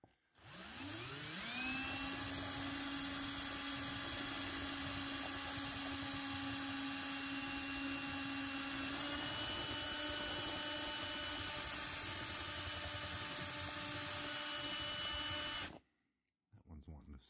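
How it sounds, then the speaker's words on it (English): A power drill spins up with a rising whine, then runs steadily for about fifteen seconds, shifting pitch partway through as it bores out holes in a beer-box cardboard piece, before cutting off abruptly. "take a drill bit that's slightly larger than that hole on the back side there, and then drill them out"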